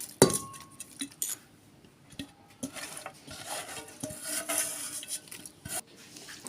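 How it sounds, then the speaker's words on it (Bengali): Turmeric, chili powder, cardamom, cinnamon, cumin, salt, onion, garlic and green chilies are worked by hand into hilsa khichuri in a metal pot, with soft squelching, rubbing and scattered clinks and knocks of utensils, close and without talk. "আমি এগুলো সব এখন খিচুড়িতে দিয়ে মাখাবো"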